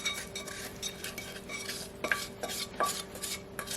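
A spatula scrapes hot saltine-cracker toffee mixture out of a pan in a close series of soft, scratchy strokes with a few sharper scrapes, and no one speaks.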